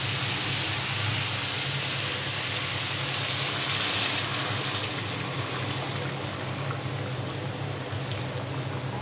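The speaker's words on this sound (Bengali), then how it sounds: "এখন মাংসটা সেদ্ধ হওয়ার জন্য কিছুটা গরম পানি দিয়ে দিব।" Hot water poured into a pan of browned beef curry, a steady rushing, splashing wash that runs evenly for several seconds, close and fairly loud, with no talking over it.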